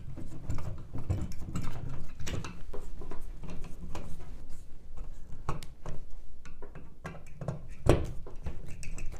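Screws being hand-threaded into the metal mounting plate of a ceiling light fixture, heard as close, scattered small scraping and clicking with soft rubbing, and no voice.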